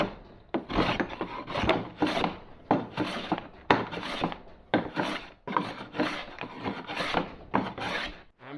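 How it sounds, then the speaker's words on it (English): Block plane shaving the flared ends of a wooden canoe paddle being built from scratch, a run of rasping strokes in a steady rhythm, close and full, with no talking. "flaring out the ends with a block plane"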